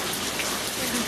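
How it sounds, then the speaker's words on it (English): Heavy monsoon rain pours steadily outside a house, a dense, continuous hiss of drops on surfaces filling the whole moment with no talk. "You wanted to come play outside in the rain?"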